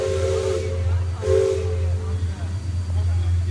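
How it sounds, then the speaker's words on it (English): The Liberty Belle riverboat's loud steam whistle blows in two long blasts with a short gap between, over a steady low rumble and hiss of machinery, at Magic Kingdom. "And we hear the steam whistle."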